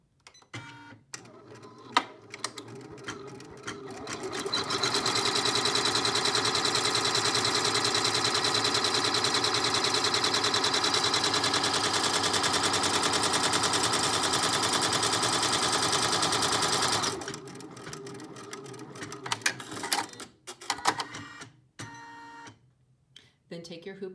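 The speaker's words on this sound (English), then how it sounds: "With your hoop on the machine, your design loaded, stitch out the first step of the stitch map." An embroidery machine stitches the outline of an Easter basket in a hooped design. A dense, rapid mechanical buzz runs steadily for about twelve seconds between quieter stretches with small clicks and handling noises.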